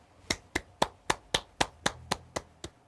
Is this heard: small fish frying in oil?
no